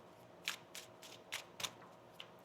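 Quiet riffle shuffling of a deck of oracle cards during a reading, about six crisp flutters in an uneven rhythm, close and soft with no talk.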